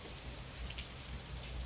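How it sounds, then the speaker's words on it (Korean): Soft, steady rain patters continuously at a quiet level, a faint, even hiss without breaks. "머리맡에 잦아드는 빗소리를 들으면"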